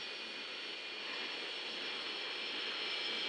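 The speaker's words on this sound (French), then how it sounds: "on active les reverses, comme on dit" A loud, steady jet engine roar with a broad rushing hiss, swelling slightly, as an airliner's thrust reversers brake on landing at Astana.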